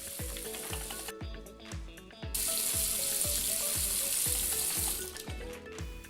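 Tap water runs steadily at a sink during hand washing in a clean public toilet block, a continuous close splashing hiss that swells louder midway, with faint rhythmic knocking beneath.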